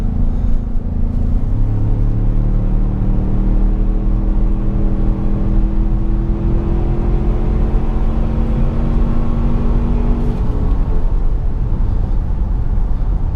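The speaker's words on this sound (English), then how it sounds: "Most of the sound that you're hearing is the induction noise" A 2017 Ford Explorer Sport with a 365 hp twin-turbo engine gives a steady induction whir and drone from inside the cabin, its tone climbing smoothly as it accelerates, then settling back over a constant road rumble.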